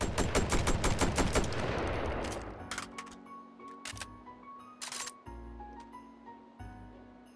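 Automatic shotgun in the VR game Hot Dogs, Horseshoes & Hand Grenades fires a fast, loud burst of rapid shots, followed by a few separate single blasts with metallic ringing and mechanical clatter between them.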